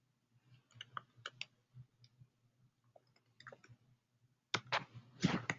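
A computer mouse clicks in scattered, faint taps at close range, then a denser burst of louder clicks and rustling near the end.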